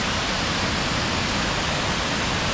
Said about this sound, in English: Saw some of this waterfall, and so you can see it right here.